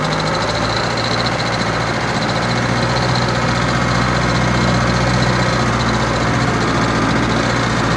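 A Unimog 411 engine running steadily in the snow with the differential lock engaged, a loud, close, continuous low diesel drone that builds slightly as throttle is added, with no talking.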